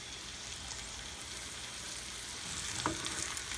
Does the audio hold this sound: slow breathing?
no